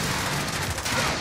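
Gunfire in Call of Duty: Modern Warfare during a riot shield match: dense, continuous shooting that fills the whole moment without a break, loud and close, with no voices over it.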